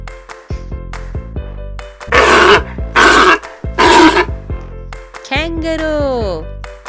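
Pig grunting in a short run of rough, throaty grunts, several noisy bursts set against a sustained musical backing, with a sliding tonal squeal near the end.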